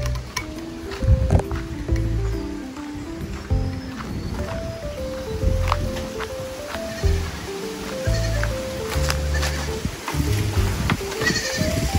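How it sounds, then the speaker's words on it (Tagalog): Several goats bleat repeatedly, their wavering calls overlapping close by, with rustling and shuffling in the background. "daming kambing."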